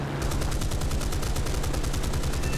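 A P-51 Mustang's machine guns fire in War Thunder arcade air combat as one dense, loud, rapid burst that lasts the whole stretch over steady engine roar.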